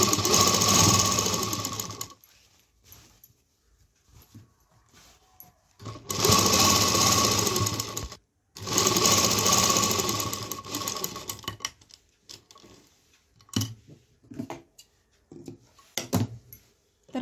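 A sewing machine top-stitches the hem of a petticoat, running in several loud, steady bursts of stitching separated by short pauses, near and alone.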